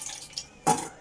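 Water poured into a pressure cooker while making fenugreek kali, a brief splashing burst that rises sharply late and sits close after faint earlier trickles.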